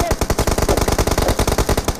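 Rapid sustained automatic gunfire in the mobile battle royale game PUBG Mobile, a loud, dense burst of evenly spaced shots running continuously for about two seconds with no pause.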